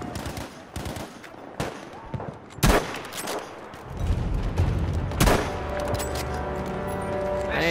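Battlefield V gunfire: rapid bursts of rifle and machine-gun shots, loud and close, with heavy booms and a rumbling explosion midway, continuous combat noise throughout without speech.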